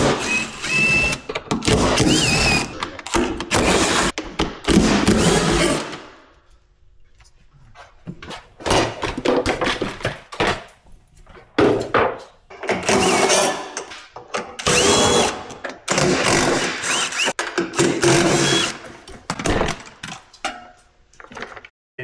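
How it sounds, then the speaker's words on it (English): T40 Torx bit on a power driver removing the bed bolts of a 2024 RZR Turbo R, with loud close bursts of motor whir separated by pauses and a brief quiet stretch partway through. "I'll be using a T40 Torx to remove the bed."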